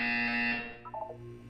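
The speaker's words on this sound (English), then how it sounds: "You will hear a buzzer. When you hear the buzzer, look down at the floor." A harsh, flat buzzer from the Portal 2 video game blares loud and steady for about half a second, then fades into quiet electronic background tones with a few soft blips.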